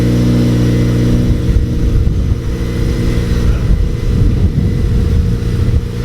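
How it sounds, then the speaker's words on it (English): A Honda Civic Si engine fitted with a Skunk2 Alpha header idles loud and close after a cold start, a deep steady rumble with slight fluctuations in revs. "cold start with the Skunk2 header."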